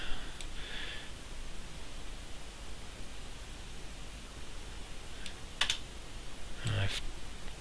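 Code is cut and pasted on a computer keyboard: a few scattered key clicks and presses, with a short cluster of sharper taps near the end, all over a steady background hiss.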